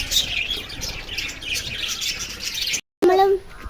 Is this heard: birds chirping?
yes